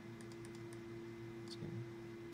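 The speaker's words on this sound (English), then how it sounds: "hit S on the keyboard." Computer keyboard keys pressed while working in animation rigging software, a few light clicks and taps close by over a steady low hum, with no talking.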